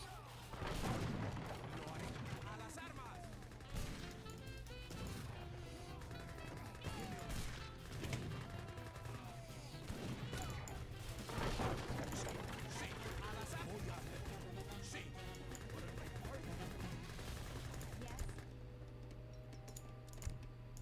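Mortar artillery volleys in the Age of Empires 3 video game, repeated booming impacts and crashes spread through the battle alongside a steady hum of game sound, with people talking over it.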